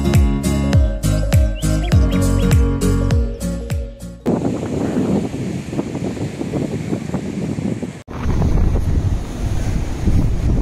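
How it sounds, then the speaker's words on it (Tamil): Ocean waves at Kasimedu beach in Chennai around sunrise, a steady loud wash of surf under heavy wind buffeting, with a sharp change in tone partway through and a brief dropout before the roar resumes. "இங்கே சன் ரைஸ் ஆக ஆக வேவ்ஸ் ரொம்ப உயரமாக வரும்"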